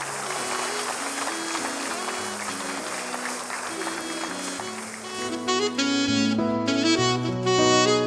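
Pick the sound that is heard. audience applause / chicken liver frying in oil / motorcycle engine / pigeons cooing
audience applause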